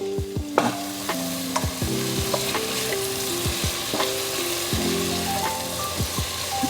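Chopped tomatoes sizzle steadily in a hot frying pan for a sprouted moth bean (matki) palya, with a spoon stirring and scraping through them in repeated strokes, close and continuous, with no talking.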